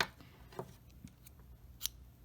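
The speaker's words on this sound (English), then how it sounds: "And now we can go ahead and cut our yarn here." Scissors snipping crochet yarn, two or three faint, quick close-up clicks of the blades over quiet room background.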